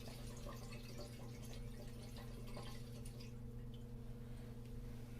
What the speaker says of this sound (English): let it drain as much as it can back into the reservoir